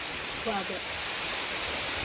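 Heavy rain pours outdoors in a Kerala village, a steady, even hiss filling the whole moment, with a brief faint voice surfacing in the middle.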